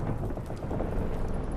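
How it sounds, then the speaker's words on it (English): A storm rages in The Witcher 3: Hearts of Stone, aboard a boat, with steady heavy rain and a low rumble of thunder running unbroken through the whole moment, fairly loud, with no voices. "Didn't bargain for no storm."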